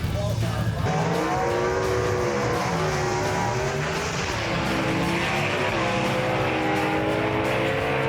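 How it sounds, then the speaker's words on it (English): Gasser drag race cars, old-style hot rods, launch and roar down a drag strip, a loud sustained engine howl rising in pitch under steady commentary from an announcer. "Bryson Bub putting that horsepower to use right there as he moves to round number 2 in that gold nugget"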